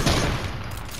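A close, loud volley of gunfire rattles out in a shooter video game, dense shots merging into one burst that gradually trails off.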